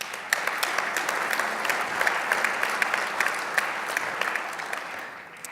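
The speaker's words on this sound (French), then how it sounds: "Vous pouvez vraiment les applaudir." Sustained audience applause fills a town New Year's wishes ceremony in Le Perreux-sur-Marne, steady and dense clapping from a hall crowd that tapers off slightly at the end, with no talk over it.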